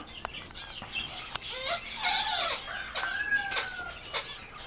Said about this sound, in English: African gray crowing in the background like a rooster?